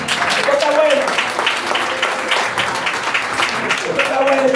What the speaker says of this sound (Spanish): Denle el aplauso al rey.